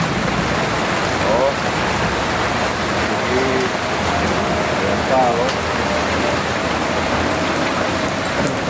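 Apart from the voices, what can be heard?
heavy rain falling during typhoon Inday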